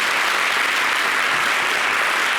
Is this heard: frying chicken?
no